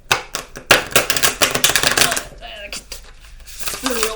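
Rapid, crisp riffling of a stiff Rider-Waite tarot deck shuffled close up, a dense burst of snapping clicks that thins out, then a voice speaks.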